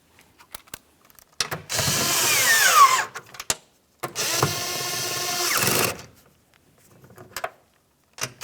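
A power tool runs in two bursts of a couple of seconds each, tightening the door mirror mounting nuts on a 2002-2005 Ford Explorer, with short clicks and handling noises between and after the bursts.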